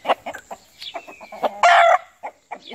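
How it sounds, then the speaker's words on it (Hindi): An Asil rooster clucks in a series of short, close calls, ending with a louder, sustained squawk before a few more clucks. "ये मेरा एक और मुर्गा है"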